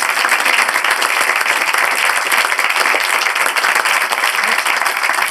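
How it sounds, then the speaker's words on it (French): Theatre audience applauding the venue staff after a stage performance of Oscar et la dame rose: steady, loud, dense clapping from a full house that holds evenly throughout. "On peut les applaudir."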